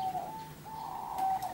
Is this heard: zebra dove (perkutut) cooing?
yes